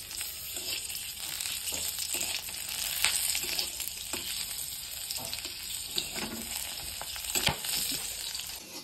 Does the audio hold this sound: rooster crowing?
no